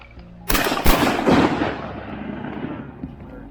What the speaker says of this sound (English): Shoot it, shoot it, shoot it.